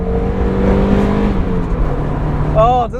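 A Mazda MX-5 roadster engine hums and builds in a steady drone with rising tonal whine, close by, as voices talk over it near the end.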